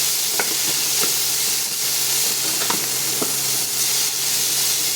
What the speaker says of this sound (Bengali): ভাজা ভাজা হয়ে এসছে